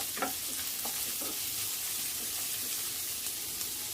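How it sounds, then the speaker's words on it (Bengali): Chopped onions being stirred with a stick in a frying pan for a long bean mash, a constant close sizzle with soft scraping strokes near the start and no voices. "পেঁয়াজগুলোকে খুব ভালো করে কাঠি দিয়ে নেড়ে চেড়ে একসাথে মিশিয়ে নিব।"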